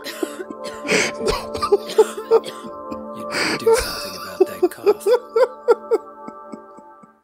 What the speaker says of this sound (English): You better do something about that cough